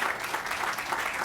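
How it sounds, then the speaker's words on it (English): Applause from a crowd at the opening ceremony of Beecher Terrace in Louisville, a brief steady burst of many hands clapping, moderately loud and even. "Could we give an applause for McCormick,"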